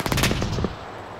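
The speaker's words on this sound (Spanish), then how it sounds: "te disparo el punto 50" A rapid burst of heavy .50 caliber machine-gun fire in the video game Arma 3, loud and close, cutting off abruptly after about half a second.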